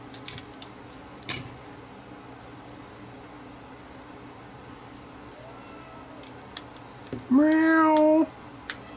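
Kitten giving a single clear, rising meow near the end, preceded by quiet background ticks and small clicks indoors.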